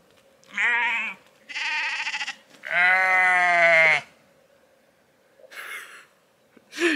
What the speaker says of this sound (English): Goose, sheep, surrounded by wildlife.